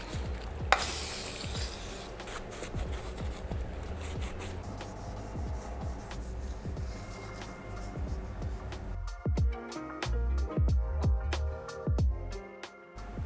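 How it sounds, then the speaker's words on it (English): A sanded Renault 5 GT Turbo engine surface is wiped down with degreaser, giving close, irregular rubbing and scrubbing strokes mixed with small clicks and taps, with no voices. "I've already sanded this surface, so now all I've left to do is degrease it"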